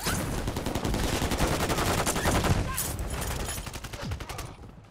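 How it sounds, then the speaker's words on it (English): Rapid automatic gunfire in Call of Duty, dense bursts of loud shots rattling continuously from behind before thinning out into a few final rounds. "somebody's shooting from behind us"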